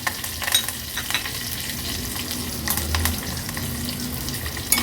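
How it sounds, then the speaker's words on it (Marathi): Mustard seeds, cumin, curry leaves, garlic cloves and green chillies sizzle and crackle in hot oil for tadka, a dense steady frying noise close by with scattered pops and stirring. "अर्धा चमचा राई घालते अर्धा चमचा जिरं कढीपत्ता लसणाच्या पाकळ्या आणि हिरवी मिरची घालणार आहोत"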